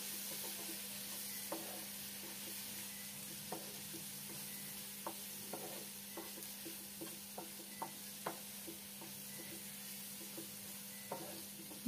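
A spoon stirs mushroom curry made with button mushrooms, salt and grated coconut in a pan, scraping in an uneven series of soft clicks over a steady low sizzle and hum, with no one talking.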